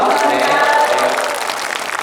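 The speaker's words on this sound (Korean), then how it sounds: "박수 부탁드리겠습니다" Audience clapping at an outdoor candlelight rally in Korea, a loud burst that fades over two seconds, with voices and crowd noise mixed in.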